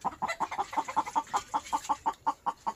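Chickens cluck in a quick, regular series of short clucks, close and clear, near a hut by a fish pond with no talking over them.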